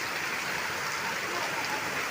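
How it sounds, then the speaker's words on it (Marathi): Heavy monsoon rain roars in a dense, steady wash, water pouring off roof eaves and splashing continuously without any pause. "मुसळधार पाऊस लागायला सुरुवात झाली आहे"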